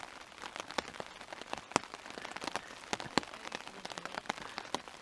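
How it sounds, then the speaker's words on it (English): Steady rain falls nearby at a back-country campsite in Killarney, with sharp individual drops tapping irregularly on a hard surface over a soft, continuous patter. "And it continues to rain."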